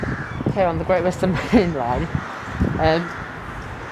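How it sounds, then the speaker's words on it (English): Crows caw loudly in the background at a railway station on a main line, heard under a man's continuous speech throughout. "The noise you can hear in the background is a load of really loud birds,"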